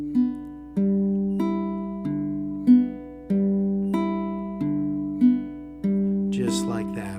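Fingerpicked baritone ukulele, the thumb alternating between strings in a steady repeating pattern of clear, ringing notes, close and alone, with a brief rustle at the end.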